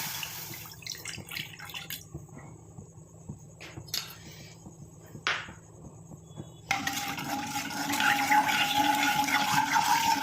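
Herbal juice decoction for a hair dye is poured into a heated iron kadai: soft trickling and dripping first, then a louder, steady hiss and bubbling for the last few seconds, close by with no voices.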